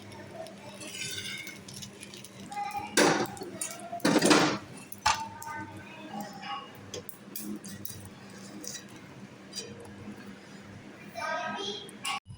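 Cooked dosa lifted from a pan onto a plate, with bright metallic clinks and scrapes of utensils against cookware, a couple of louder clatters, and voices talking throughout.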